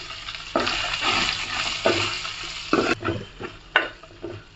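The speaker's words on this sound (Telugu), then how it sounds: "ఇందులోకి కొద్దిగా మనం క్లీన్ చేసి పెట్టుకున్న నెత్తలు కూడా వేసి ఫ్రై చేసుకోవాలి." Loud, close sizzling as cleaned dry fish drops into hot oil in a pan, with sharp crackling bursts and spatter swelling and settling over a few seconds.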